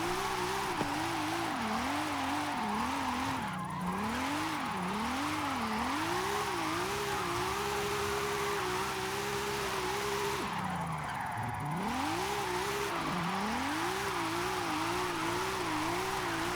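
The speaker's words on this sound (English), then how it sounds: "This is a flawless BMW drift build." A BMW drift build in Forza Horizon 5 revs continuously, its engine pitch swinging up and down in rapid waves as it slides, then dipping and climbing again, loud and close with a constant tire hiss.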